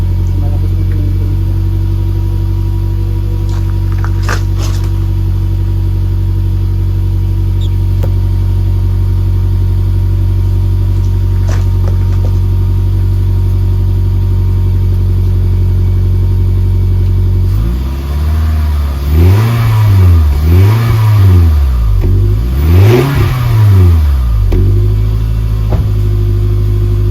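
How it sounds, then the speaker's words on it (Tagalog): Engine of a Toyota Alphard through a new HKS Legamax muffler: loud, steady idle drone for a long stretch, then repeated rising and falling revs near the end, close by. "Testing po muna natin kung anong tunog ng ating muffler."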